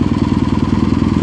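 A Kawasaki W800 motorcycle idles up close with a modified exhaust (cut, replaced tip on the stock peashooter-style muffler), a loud, even, rapid thumping pulse throughout.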